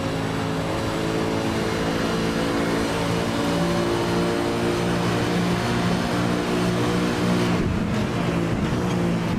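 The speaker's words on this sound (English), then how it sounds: "Let's have a listen to this car in the bowl here." A race car roars steadily at high speed on an oval track, engine note sustained and loud, with a brief shift in pitch near the end as it passes.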